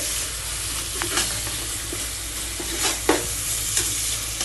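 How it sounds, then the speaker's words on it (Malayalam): Onions frying in a pan are stirred, a steady close sizzle broken by scraping and knocking from the spoon against the pan. "ഇങ്ങനെ ഇങ്ങോട്ട് ഇളക്കി കൊടുത്ത്"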